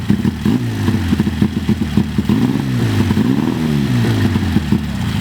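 Honda Wave two-cylinder motorcycle being ridden, a loud close engine with a rapid, uneven pulsing note that rises and falls, plus rattling clatter.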